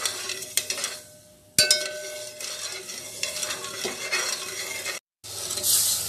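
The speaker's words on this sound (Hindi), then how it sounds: "ये चाशनी हमारी बन रही है" Sugar syrup for gulgule cooks in a pan, with steady stirring scrapes and a soft bubbling sizzle, close and moderately loud, briefly cut by a short gap near the end.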